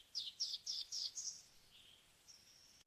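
A canary sings a short phrase of five quick, bright chirps in a row, then a softer, thinner trill that fades out, heard clearly and close against a quiet background.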